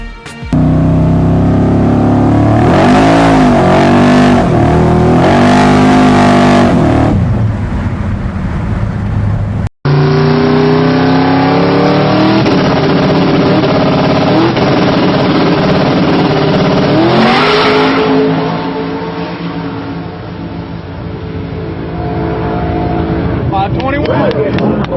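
A car with an 8-stack Hemi engine revs loudly and close by, its throaty pitch climbing and falling in repeated sweeps, with an abrupt break partway through.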